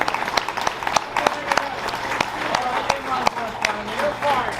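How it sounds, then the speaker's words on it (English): A banquet audience claps in scattered, sharp bursts while someone speaks over it, the applause fairly close and modest rather than a roaring ovation. "Let's give them a big round of applause"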